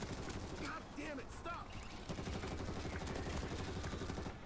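Rapid gunfire in the World War Z video game rattles in continuous automatic bursts at a stadium under zombie attack, with a voice talking over the steady shooting.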